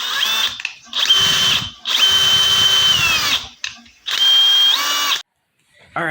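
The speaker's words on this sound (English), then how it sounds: "then to drill it, really all you need to do is hold it here, take your drill," A power drill bores through a 3D-printed dowel jig in several loud, close bursts of high whining motor, with short pauses between runs and pitch dipping as the bit bites.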